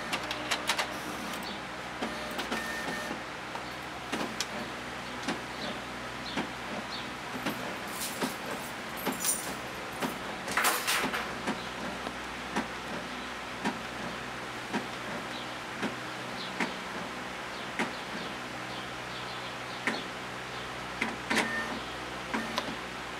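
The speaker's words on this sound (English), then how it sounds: "let's print a test page." An old printer whirs and clicks through a test page, with steady mechanical hum, rhythmic ticks and occasional louder clunks, no voices.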